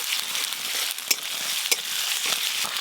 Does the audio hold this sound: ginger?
yes